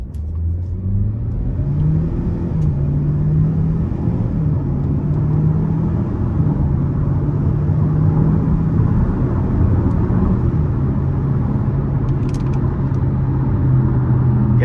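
A 2020 GMC Terrain SLT with the 1.5-litre turbo engine and 9-speed automatic accelerates under a light pull, its engine drone rising steadily and holding loud and close throughout with no speech.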